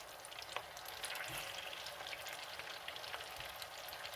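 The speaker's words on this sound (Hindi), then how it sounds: "पहले इन्हें फ्राई करेंगे" Mutton nargisi kofte frying in hot oil, a dense, even crackling sizzle heard up close, with a soft bump or two of the pan underneath.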